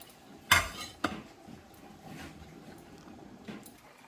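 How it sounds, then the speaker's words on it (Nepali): Potato dal is stirred in a metal pot with a ladle after chopped coriander leaves go in: two sharp clanks against the pot, then soft, quiet scraping and stirring, close by and without talk. "धनिया पत्ता राखेर नि मजाले चलाउनुपर्छ"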